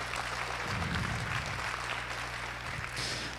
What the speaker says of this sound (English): So give a round of applause if you would.